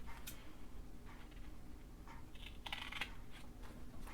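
Trimming the edge off a paper page for a Victorian Christmas junk journal, heard as a few soft, brief scissor snips and paper rustles over a quiet room hum.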